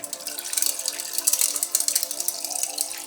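Cold water pours steadily into a Ninja Thirsti travel mug already holding ice, a continuous splashing gurgle with fine bubbly texture that grows slightly louder as it fills.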